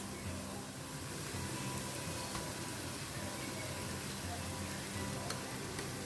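Prawns hitting a hot frying pan with softened tomato in a Goan-style stuffed squid dish, giving a steady, moderate sizzle that fills the whole stretch with faint background murmur.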